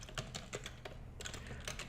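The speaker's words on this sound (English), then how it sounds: "So I'm gonna type in ue log" Rapid typing on a computer keyboard, a steady run of close key clicks with no pauses, fairly quiet and heard alone.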